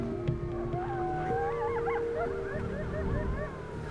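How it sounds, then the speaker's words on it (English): Coyotes yip and howl at night in Joshua Tree National Park, wavering high cries rising and falling in a loose chorus that carries steadily through the clip from a distance, with no talking. "a bunch of coyotes are yakking at us out there"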